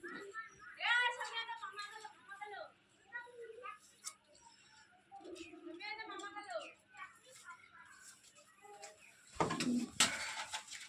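Punjab Malbai pigeons coo in low, soft bursts close by, while someone talks over them for most of the stretch; a louder rustle or flutter comes near the end.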